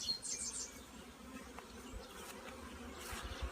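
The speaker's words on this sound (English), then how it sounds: "Quite a pile of bees right there because of that." Honey bees from an opened hive being worked for queen cells hum in a faint, steady, close drone, with no talk over it.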